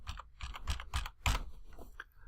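A few quick taps on a computer keyboard while entering a custom time format in Excel, quiet and close, an irregular cluster of distinct keystrokes with no talking.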